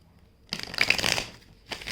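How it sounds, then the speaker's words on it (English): A deck of cards being shuffled gives a burst of rapid riffling and flapping, close and moderately loud, with a brief second shuffle at the end. "Shuffle a little bit more."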